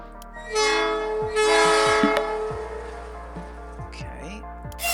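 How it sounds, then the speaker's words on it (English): Several trains pulling out in the video game Voxel Tycoon, sounding overlapping horn toots and whistles above rolling wheels and rhythmic track clatter, with someone speaking over the rail noise. "Okay, there's a few trains going out now."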